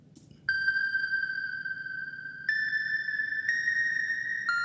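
A melodic synth patch from the Lo-Fi Dreams expansion for Falcon plays pure, sustained bell-like tones, a few notes stepping slightly upward one after another with clean, ringing attacks.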